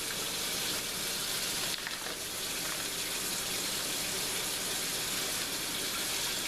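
Tap water runs steadily over a nearly ten-pound smoked Canadian bacon as it is rinsed clean, a continuous close hiss and splash that holds from start to finish with no voices.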